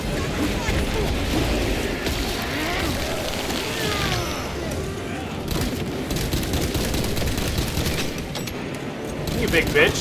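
Enemy gunfire in the video game Space Marine 2 rattles in dense, sustained bursts across the whole stretch, mixed with booming impacts and game voices in a loud, busy battle.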